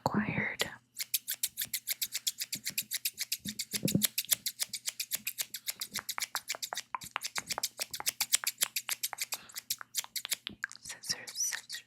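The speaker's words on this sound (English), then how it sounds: "I'm just gonna go ahead and get some scissors, I think." Scissors cutting plastic packaging snip quickly and rhythmically, dozens of crisp cuts in a steady run, close up, with soft whispering now and then.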